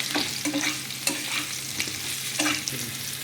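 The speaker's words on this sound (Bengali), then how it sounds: "এবার আমি কচুগুলোকে একটু ভেজে নেব।" Taro pieces seasoned with a little salt and turmeric fry in hot oil in a wok, giving a steady close sizzle broken by several scraping stirs of a spatula across the pan.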